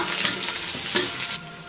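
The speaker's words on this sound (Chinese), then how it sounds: "锅内倒入我们炼好的底油，开始炒菜" Scallion, garlic and dried chilies stir-fry in hot rendered oil in a wok, a close, steady sizzle with a couple of sharp scraping stirs from a spatula before the hiss settles.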